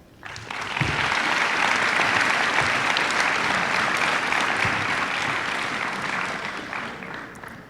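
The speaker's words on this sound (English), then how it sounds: "So if you would all please join me in a round of applause." A round of applause at a high school senior award night, a dense, steady clapping from a large audience that starts suddenly, holds for several seconds and tapers off slightly at the end.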